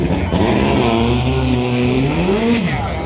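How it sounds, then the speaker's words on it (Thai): A loud, steady racing speedboat engine roar with a rising and falling revving pitch, warmed up close by before a boat race, continuous throughout. "จะมีนักแข่งก็กำลังวอร์มเครื่องครับ"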